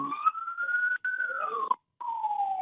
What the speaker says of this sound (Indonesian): suara sirine yang ada di background Anda